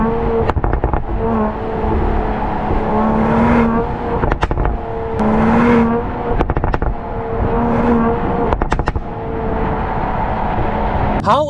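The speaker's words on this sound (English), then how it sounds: "It's just constantly popping and banging." A 2024 Mercedes-AMG GLE 53 exhaust crackles, pops and bangs in sharp repeated bursts between loud engine pulls, close and prominent, with no one speaking.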